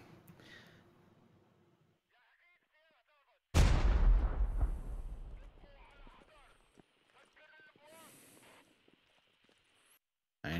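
A loud explosive blast from an SKS rifle and grenades in the military shooter Squad, followed by a decaying rumble and scattered shots, with radio chatter and voices before and after.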